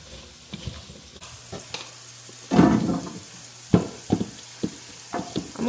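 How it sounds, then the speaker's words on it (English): Seasoned potatoes tossed with salt in a bowl, giving a run of scraping, rattling bursts that come and go close by, with no talking. "Give it a good old toss-a-toss."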